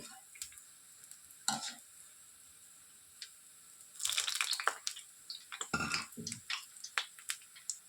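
Urad dal vadas frying in oil, a faint steady sizzle with scattered crackles and a few louder bursts and clicks as they are turned, no talking.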